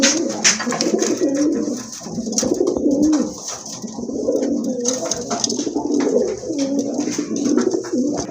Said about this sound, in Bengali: দেখেন আরেক জোড়া কবুতর, খয়রা গলা কবুতর